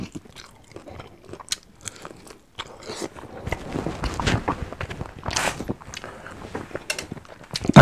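Someone eats a fried chicken drumstick hungrily, with close crunchy bites and wet chewing in an uneven, hurried rhythm, loud and near, with no talking.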